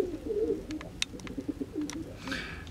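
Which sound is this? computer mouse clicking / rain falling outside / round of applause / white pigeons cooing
white pigeons cooing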